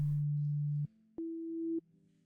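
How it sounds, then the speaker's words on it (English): A plain, smooth electronic tone from a slightly detuned sine-wave synth pad holds low, then stops; after a short gap a slightly higher tone sustains briefly, both clean and steady with no other sound. "Low key for this one, I think I just want a sine wave. Detuned a little bit."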